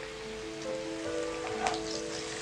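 Potato pieces fry in hot oil with turmeric and salt, a steady close sizzle and crackle with a faint tonal hum from the kitchen, no talking.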